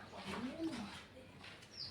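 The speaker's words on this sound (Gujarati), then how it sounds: "કબૂતર પણ બહાર નીકળવા માંડ્યા છે" Pigeons coo softly at a village pigeon coop, a few low, faint calls spread across the quiet moment.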